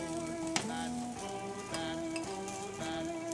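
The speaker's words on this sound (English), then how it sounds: "Take your meats back into the skillet." Carne asada fajita meat sizzling in a skillet, a steady hiss with scraping and stirring knocks recurring every second or so, fairly close.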